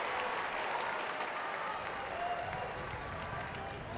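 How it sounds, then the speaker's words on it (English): A partisan San Antonio crowd cheers at a professional soccer match in a stadium, a broad, steady roar of applause and voices that holds evenly across the whole stretch. "Cardoni drawing cheers from a partisan San Antonio crowd"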